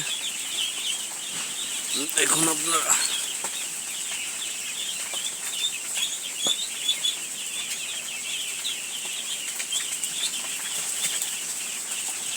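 Around 400 eight-day-old ducklings feed, drink and wander, filling the air with a steady, dense chorus of high peeping and faint rustling, joined briefly by a voice.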